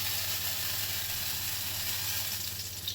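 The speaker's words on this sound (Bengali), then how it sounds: "এবার কড়াটা গরম হয়ে গেছে, তেল দিয়ে দিই।" Steady, dense sizzling of hot oil in a wok, continuous and close, with a low hum beneath and no talking.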